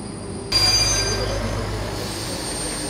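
A train pulls into Trutnov main station with a sudden rise of rumbling rail noise and high, sustained wheel squeal. It is loud and close, continuing steadily until the end.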